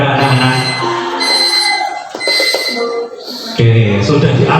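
An alarm rings in a classroom to mark the end of a timed group activity, a steady tonal ringing running through the whole clip with background chatter and voices mixed in.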